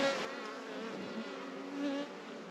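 A honey bee swarm being gathered into a cardboard box for hiving hums with a steady, dense buzz close by, swelling briefly at the start and again near the end, with no voices.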